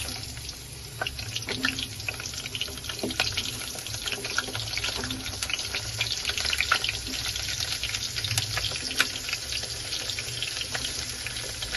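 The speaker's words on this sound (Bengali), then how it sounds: "তেল গরম হয়ে গিয়েছে, আলুগুলো এক এক করে দিয়ে দেব।" Potato pieces frying in hot oil for an egg curry, a steady crackling sizzle that runs the whole time with scattered sharp pops, close and fairly even, with no talking.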